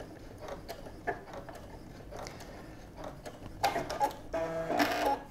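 A sewing machine runs a short backstitch while making a fabric soup bowl cozy: quiet bursts of mechanical clatter, then a louder rapid whirring run of stitches near the end.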